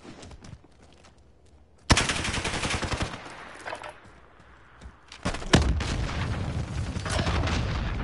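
Rapid bursts of automatic gunfire from the video game A Way Out crackle in two loud volleys separated by a quieter stretch, dense and punchy with sharp onsets.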